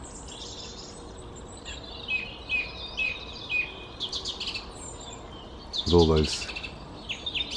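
Several wild birds, including blackbirds, robins, a thrush and a wren, call and sing outdoors with short chirps and whistled phrases at moderate distance, and someone speaks briefly near the end.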